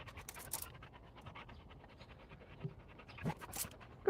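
A tired big dog named Soma pants in steady rapid breaths outdoors on a humid day, close and fairly soft, with a few brief scratchy noises mixed in.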